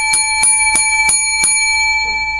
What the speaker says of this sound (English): Man, that bell sounds great.